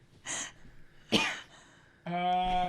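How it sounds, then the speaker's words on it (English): A man coughs and clears his throat in short harsh bursts close to the mic, followed by a brief voiced sound like a groan, each burst separated by quiet pauses. "He coughs."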